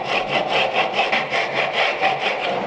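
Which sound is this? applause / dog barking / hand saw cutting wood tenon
hand saw cutting wood tenon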